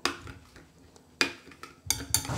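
A lime-juice sauce stirred in a bowl, with a spoon clinking and scraping against the sides in a few quick, close strokes, light and brief, no voices.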